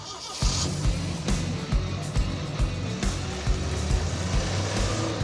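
An off-road AMC Pacer drives on a public road, its engine droning steadily with rumbling road noise and a few brief bumps or shifts throughout.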